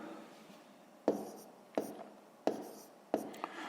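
Pen strokes write down a math solution for a sixth-grade exercise, with four distinct taps or scratches at roughly even intervals, close and quiet against a soft background.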